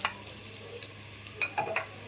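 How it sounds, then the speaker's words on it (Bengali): Chopped onions and bay leaves frying in cooking oil in a wok, a steady soft sizzle with a few brief scraping stirs toward the end, close and fairly quiet. "এবার আমি দিয়ে দেব রান্নার তেল, আর এবার দিয়ে দেব হচ্ছে সেই পেঁয়াজ কুচি আর তেজপাতা।"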